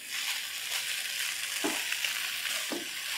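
Spaghetti with vegetables being stir-fried in a pan, a bright continuous sizzle with soft scraping stirs and a couple of dull utensil knocks, close and steady with no voices.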